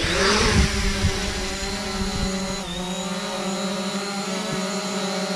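Hubsan Zino drone lifting off outdoors, a loud, steady high-pitched motor whine with layered tones that swells at first and then holds evenly, close by and alone.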